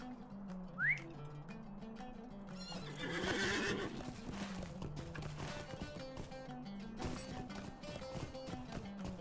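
A horse neighs sharply near the start, followed by rhythmic hoofbeats clopping steadily over ambient music in Lord of the Rings Online.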